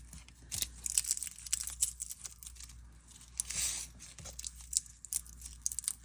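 Garlic cloves being peeled by hand for a salmon poke bowl: soft, close crinkling and tearing of papery skins in short irregular bursts, with faint sharp snaps, quiet and without speech.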